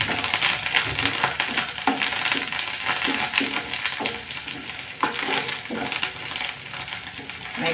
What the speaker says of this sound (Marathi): आता हे अद्रक लसणाचं पेस्ट टाकूया। चला, कांदा लसण आपलं लालसर झालेला आहे।